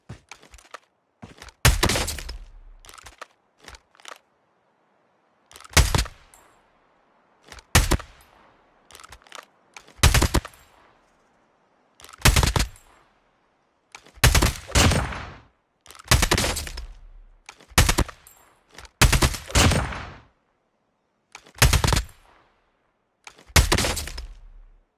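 Gunfire from the mobile video game Call of Duty Mobile rings out in about a dozen sharp, loud bursts of rapid automatic shots, each a brief cluster separated by short silent gaps.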